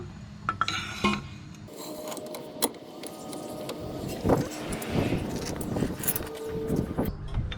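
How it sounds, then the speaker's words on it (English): A removal tool unscrews the inner tie rod on a 2001 Lexus ES300, heard as faint metallic scraping, rasping and clinks, with a few sharper knocks, close up and quiet. "Unscrewing the inner tie rod."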